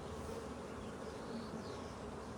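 Honey bees buzz steadily on a drawn-out hive frame full of nectar during a hive split, a dense, continuous drone close up with no voices.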